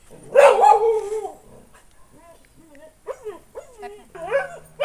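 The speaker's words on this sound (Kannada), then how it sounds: "ನಾಯಿದು ಸ್ವಲ್ಪ ಡಿಸ್ಟರ್ಬೆನ್ಸ್ ಇದೆ, ಸ್ವಲ್ಪ ಅಡ್ಜಸ್ಟ್ ಮಾಡ್ಕೊಳ್ಳಿ" A dog gives a loud, close yelping bark, then a series of shorter whining yips follows on open practice ground, with people talking nearby at the same time.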